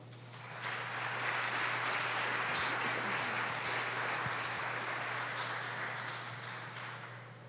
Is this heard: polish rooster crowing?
no